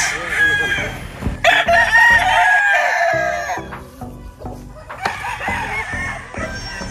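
Gamecocks at a cockfighting farm's tethering area, loud nearby crowing overlapping with clucks and other fowl calls, with several birds calling in succession and brief pauses between.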